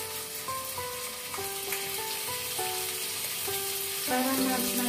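Beef-wrapped asparagus frying in hot oil in a pan gives a steady close sizzle, with tonal kitchen sounds layered over it that grow slightly louder near the end.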